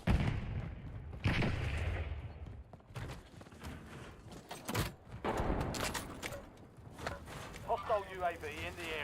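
Gunfire in a Call of Duty war-zone match, scattered close shots and sharp bursts mixed with game chatter and someone talking over the action.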